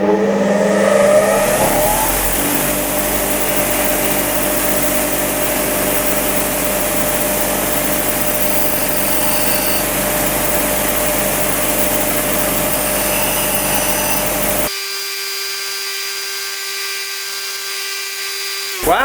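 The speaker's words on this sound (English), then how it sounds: "Now let's test the fine wheel. I got a 10mm drill bit." A bench grinder's fine wheel grinds a 10mm drill bit, a loud steady whirring, rasping drone that runs for many seconds before the grinding stops and the motor's hum carries on alone.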